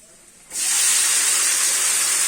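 Cooked vegetables tipped into onions fried red in hot oil set off a sudden loud, steady sizzle that starts half a second in and hisses on without a break.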